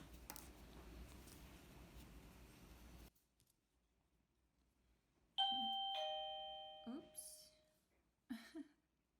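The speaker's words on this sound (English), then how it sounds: "That was the doorbell." An electronic doorbell chimes during a cow amigurumi crochet tutorial, sounding twice as clear, ringing tones that follow a quiet pause after rustling handwork, then a brief clatter near the end; no talk is heard.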